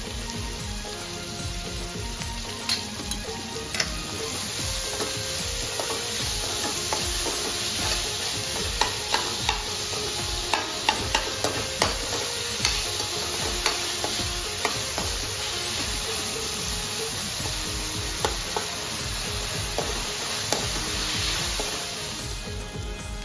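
Chopped onion frying with salt in a pan for a dried bombil and fenugreek dish, a steady bright sizzle running throughout with frequent small clicks and scrapes of stirring, close and alone.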